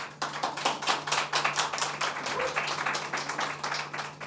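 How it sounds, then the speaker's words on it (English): Sparse audience applause at a press conference for a film, a small group clapping at a quick, uneven rhythm for a few seconds over a steady low hum. "Please, an applause"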